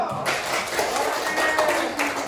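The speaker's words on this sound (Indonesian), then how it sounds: "Tepuk tangan dulu." A group of students claps in a classroom for the winning group, a brief, fairly even patter of applause with some voices mixed in.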